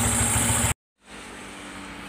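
A Honda Vario 150 scooter idles loudly nearby, then its engine cuts off abruptly, leaving a brief dead silence before quieter background hum returns; no talking.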